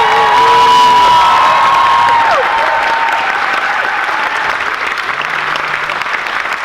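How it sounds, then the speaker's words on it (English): Sustained applause from a cinema audience at a film premiere panel discussion, loud and dense throughout, with a few cheers and whoops rising above it before gradually easing off. "Another round of applause for Alex Grace."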